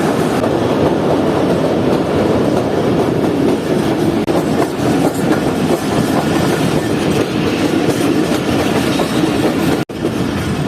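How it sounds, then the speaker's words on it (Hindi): The Fareed Express, a private passenger train on the Lahore to Karachi route, rolls steadily along the rails with a loud continuous rumble and rhythmic clickety-clack of wheels, heard from on board without a break. "तकरीबन 6:45 बजे हमारी ट्रेन एंटर हो रही है कानपुर शहर में"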